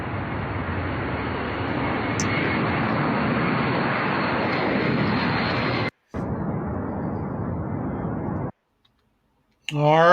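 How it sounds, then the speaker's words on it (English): US B-52 bomber aircraft in flight give a broad, loud engine roar that runs continuously, breaks off abruptly, returns slightly thinner, then cuts to silence before a brief burst at the end. "US B-52 bombers have been deployed and have already taken off for Europe"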